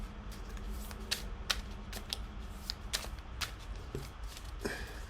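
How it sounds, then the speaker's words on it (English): Tarot cards shuffled by hand at close range, a soft continuous riffling with sharp crisp bursts as the deck is split and bridged, with no talking. "you get your cards, you shuffle them."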